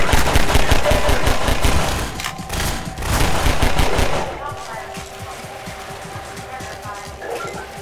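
Rapid automatic gunfire from a firefight in the video game Half-Life 2, loud and dense for about four seconds, then easing into quieter scattered shots and background game noise.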